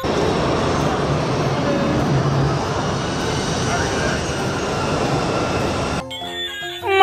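A toy space shuttle plays a steady, loud roaring jet-engine effect at close range for several seconds, then stops abruptly as a short burst of tinkly electronic music takes over.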